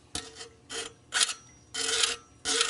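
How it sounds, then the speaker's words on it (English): Metal axe blade being profiled and sharpened with a hand file, five rasping strokes in an uneven rhythm with brief pauses between, close and moderately loud. "trying to profile an axe blade. You're going to hear how metal reacts."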